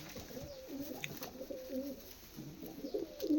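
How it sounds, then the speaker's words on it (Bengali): A Laldhoma pigeon cooing nearby, soft repeated rolling coos in several phrases at low volume, with no talk. "পুরো ফ্রেশ পায়রা লালদমা"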